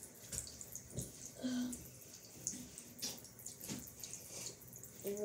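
Water running from a tap while someone washes their face, a faint continuous splashing wash with small drips and splashes scattered through it, fairly quiet and close.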